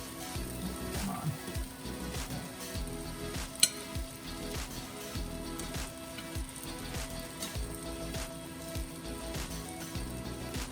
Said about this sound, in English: Our onions are starting to sweat slightly.